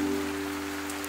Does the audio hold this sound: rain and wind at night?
yes